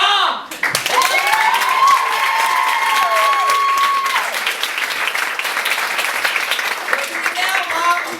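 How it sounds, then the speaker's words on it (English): Loud theater audience applause and cheering for a comedian's mother, close, continuous clapping with a few whoops over about eight seconds, while a voice speaks partway through. "We give a round of applause to my mom!"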